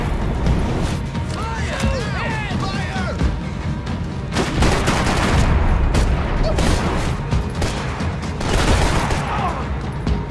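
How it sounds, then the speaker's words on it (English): Sustained bursts of gunfire in Max Payne 3 crackle through a dense, noisy battle mix, with scattered shots and booms continuing throughout at steady loudness. "Gunfire over Hoboken."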